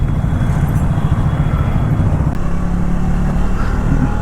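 A Triumph Thruxton 400 motorcycle rides through town in third gear, its engine a loud, steady low rumble mixed with wind noise and no voices.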